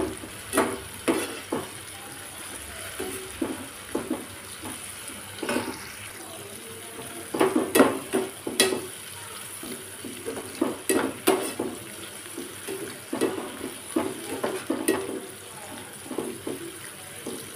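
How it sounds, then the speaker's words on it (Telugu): Cashew nuts frying in a pan alongside onion and tomato, giving a steady sizzling, bubbling wash with scattered louder crackles and pops throughout, moderately close. "జీడిపప్పు వేగినాయండి"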